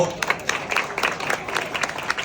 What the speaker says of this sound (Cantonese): 俾啲掌聲啊彭師傅